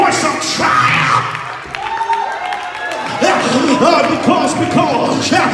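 A church congregation claps and shouts in triumph: loud, sustained rhythmic clapping with cheers and yells rising and falling, and a voice carrying through the crowd noise.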